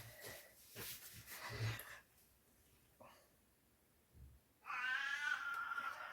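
A cat gives a drawn-out, wavering meow near the end, after a stretch of soft rustling and breathing sounds nearby.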